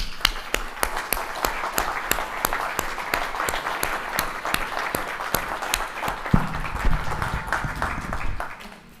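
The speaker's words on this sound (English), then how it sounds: "Let's give them a round of applause for their amazing work." Applause from a conference audience honouring social entrepreneurs at a social business event, dense steady clapping with sharp individual claps standing out, sustained for several seconds before tapering off near the end.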